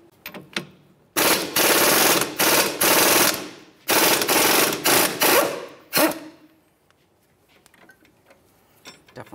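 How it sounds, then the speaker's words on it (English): Loud bursts of a power impact tool removing the lower bolt from a 2011-2020 Toyota Sienna front wheel hub, several sharp rattling runs of about a second each separated by short pauses, close by and alone. "Fully remove the lower bolt."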